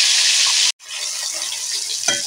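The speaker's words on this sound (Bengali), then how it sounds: "মুড়ো মাছ বেশ ভালো করে আমি ভেজে নিয়েছি" A fish head fries in hot oil in a wok, giving off a loud, close, hissing sizzle that cuts out briefly, then resumes slightly softer with a faint stirring scrape near the end.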